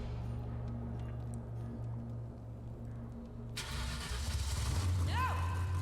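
A video game car engine cranks and turns over partway through, then settles into a rising rumble with a high whine, following a low steady hum.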